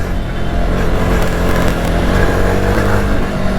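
A 2025 Jawa Bobber motorcycle ridden through city streets, a loud continuous engine drone with wind rush, steady and close throughout the short stretch, no talking.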